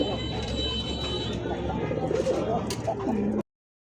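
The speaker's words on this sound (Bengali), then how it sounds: "দর্শক এই মুহূর্তে দেখতে পাচ্ছেন খুব সুন্দর কালারের মধ্যে চমৎকার একটা কবুতর" Pigeons of fancy breeds such as Lahori, Bombay, satin, Danish and Modena coo in low, repeated murmurs from close by, mixed with a voice talking over them, until the sound cuts off abruptly.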